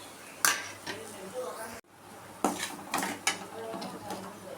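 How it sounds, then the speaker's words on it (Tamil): A spoon stirs garlic rice with ground spice powder in a pan, scraping and clinking against the metal in several short strokes, fairly faint and close, with a person talking over it. "நல்லா கலந்துட்டு அரைச்ச பொடியும் போட்டு ஒரு கிளறிக்கலாம்."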